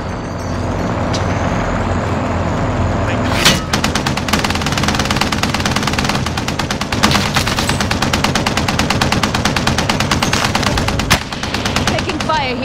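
Video game gunfire: rapid automatic bursts start a few seconds in and keep up a dense, loud, steady rattle, with heavy engine rumble and effects beneath and occasional sharper shots.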